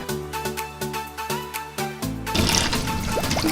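A pour of water into a container for walnut milk, a broadband splashing rush entering loud partway through over steady background music.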